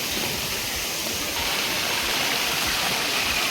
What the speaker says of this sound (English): The water comes all the way from there and making a mini waterfall over here also.